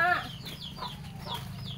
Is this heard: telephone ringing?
no